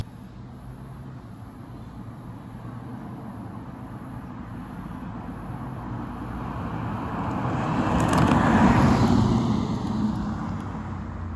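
BMW 330i driving along a road, heard as a steady low engine and tire rumble with wind noise that swells a little toward the end, no voices.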